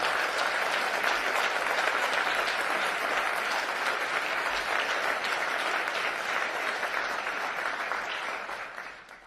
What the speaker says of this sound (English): Please join me in giving a big round of applause to my fellow awardees of the International